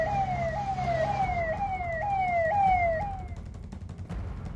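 An ambulance siren wails in snowy Jammu and Kashmir, a loud rising-and-falling yelp repeating several times before fading, over an engine rumble from a heavy digging machine clearing the vehicle.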